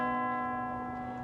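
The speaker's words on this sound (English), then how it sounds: "Nothing Scrooge could do or say could stop the relentless march of those terrible bells." Steady tolling bells from The Muppet Christmas Carol ring with a sustained, humming tone that slowly fades, heard alone at moderate loudness with no talking.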